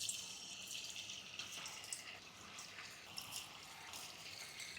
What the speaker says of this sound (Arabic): الآن نضيف كرات اللحم على زيت حامي.